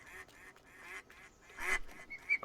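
Several ducks quack in irregular bursts, growing louder and denser toward the end, with no talking over them.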